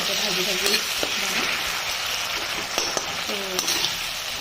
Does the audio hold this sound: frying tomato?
yes